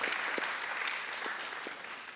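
A crowd at a public information session on citizens' assemblies breaks into steady, dense applause that carries on without a break and slowly fades toward the end, with no talking over it.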